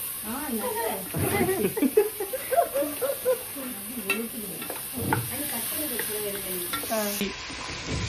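Tomatoes and curd frying in a pan for biryani, with steady sizzling and occasional stirring scrapes under continuous close-up talk.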